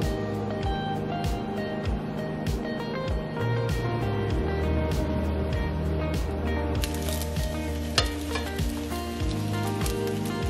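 Slices of bread coated in batter fry in a pan for Hong Kong-style French toast, giving a continuous crackling sizzle with scattered sharp pops and clicks throughout.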